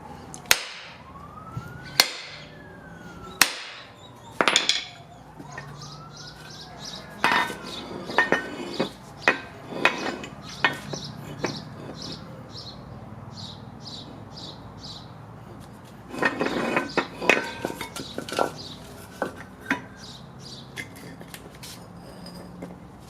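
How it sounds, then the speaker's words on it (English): Sharp metallic hammer blows strike a bent steering knuckle from a Honda Civic, coming in irregular loud bursts with pauses between, plus a dense flurry of strikes later on, set against faint shop noise. "the hammering worked only so much"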